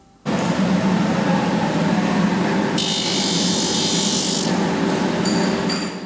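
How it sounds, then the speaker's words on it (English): A spinning sanding disc at a shoe factory grinds loudly against the bottom of a shoe sole, a harsh continuous whir that brightens and grows more abrasive midway, then eases. "A sand disc is used just so you don't have any little fluffy threads on the bottom of the shoe"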